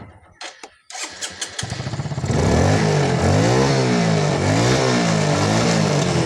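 A Hero Glamour motorcycle engine catches after a few sputtering attempts, then revs steadily and loudly with a rising and falling engine note close by.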